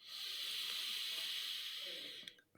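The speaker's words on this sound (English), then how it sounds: "Deep breath in, all the way in." A long, steady airy inhale with a hissing quality, sustained for over two seconds before tapering off at the end.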